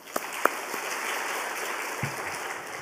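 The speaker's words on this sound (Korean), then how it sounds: "감사의 박수를 올리겠습니다" A church congregation applauding during a Friday worship service, a soft, steady wash of clapping filling the room for a few seconds after a couple of sharp nearby claps, fairly distant and even.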